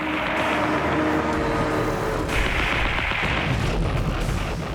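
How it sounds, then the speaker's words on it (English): World War II US fighter planes and anti-aircraft guns fire at attacking kamikazes near Leyte in the Philippines, a dense, loud roar of gunfire and aircraft noise with booming bursts throughout. "US fighters and anti-aircraft guns respond to the threat."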